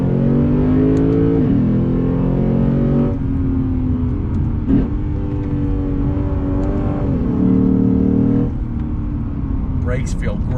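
A 2021 Lexus RC F V8 engine pulls hard on throttle, its rising engine note climbing through several gear changes, each with a brief dip, loud and close inside the cabin.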